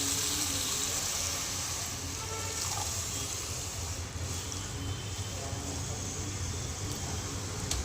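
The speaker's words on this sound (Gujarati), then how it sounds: "હવે આમાં નાખીશું ગરમ પાણી." Hot water is poured into a pan of paneer curry gravy, a steady, even pouring hiss that lasts throughout at moderate loudness.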